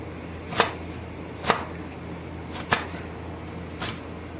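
A knife chopping vegetables finely for a samosa filling in a home kitchen, four separate sharp taps spaced about a second apart, faint and clear over quiet room hiss.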